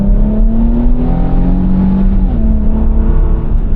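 The 450-horsepower 2025 Infiniti QX80 accelerates hard, heard from inside as a loud, steady engine drone that climbs in pitch and holds strong throughout.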